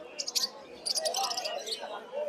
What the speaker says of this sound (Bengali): এখানে সুন্দর কিছু পাখি আছে